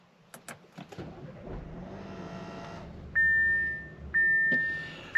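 Push-button start of a 2021 Audi Q5 Sportback Prestige: soft button clicks, then the engine cranks and settles into a low idle, followed by steady electronic chimes from the cabin.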